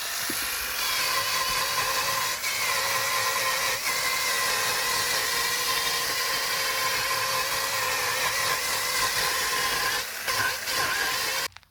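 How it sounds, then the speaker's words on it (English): A powered wire brush scrubbing rust from a car's brake rotor and disc: a continuous, loud, high whirring grind that holds steady for about ten seconds before cutting off. "you should use a wire brush to clean this rust off from the rotor"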